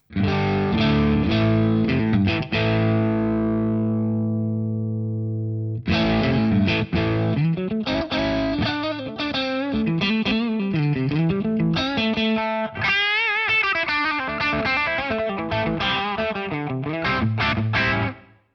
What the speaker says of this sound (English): This kicks in a tube screamer.